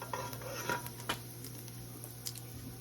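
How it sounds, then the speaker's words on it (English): Spoon stirring curry chicken with minced garlic in a pan, faint light scrapes and clinks over a soft sizzle, a few sharper taps scattered through. "Stir occasionally. Or should I say often, like constant, not occasion,"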